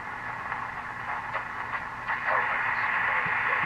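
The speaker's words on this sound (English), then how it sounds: "Of course, this doesn't have a BFO, so all you're going to hear is the carrier." A Silvertone Model 4464 radio receiver without a BFO gives out a steady hissing carrier with faint clicks, loud and continuous with no voices.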